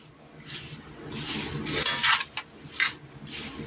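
A spoon stirs apple sauce mixed with half a shot of Jim Beam bourbon in a dish for bourbon apple sauce pork steaks, giving a run of close, irregular clinks and scrapes against the bowl with no talking.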